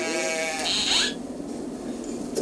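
A goat bleats once, a loud, wavering cry that fades out quickly, followed by a quieter background with faint murmuring.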